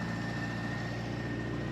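An Austin A30 engine idles steadily up close, a continuous even rumble with no talk over it.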